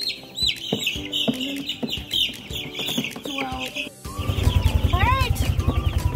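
Meat-bird chickens on a pasture farm cluck and chirp in bursts, close by, mixed with a voice giving commands to a dog; partway through a denser, steadier flock clucking takes over.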